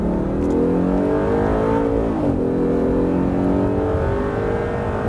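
A car on a race track accelerates again after braking, its engine revving steadily and close, with the pitch rising and shifting as it pulls away. No talk is heard.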